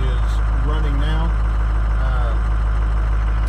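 A Powerstroke 6.0 diesel engine in a truck idles with a heavy, constant low rumble throughout, while someone talks over it nearby.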